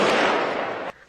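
A dense, loud burst of heavy-weapons gunfire of various calibers crackles in a shootout in Mangueira, in Rio's north zone, then cuts off sharply near the end.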